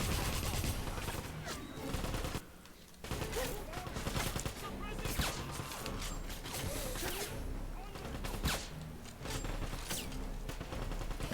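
Pistol gunfire in the Wolfenstein video game rattles in dense, rapid volleys with mechanical clatter, loud and nearly continuous, with one brief lull.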